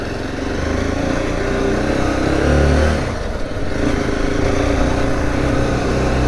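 A Zontes T2 310 single-cylinder 300 cc motorcycle pulls away in first gear, its loud close engine drone swelling as it revs up, then holding steady, wind rushing across it.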